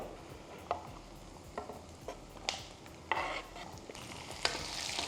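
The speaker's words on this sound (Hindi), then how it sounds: "हरी मिर्चें डाल लेते हैं।" Green chillies frying in an oily pan for a spicy Maharashtrian thecha with peanuts, a steady close sizzle broken by several sharp stirring scrapes and pops, with no talk.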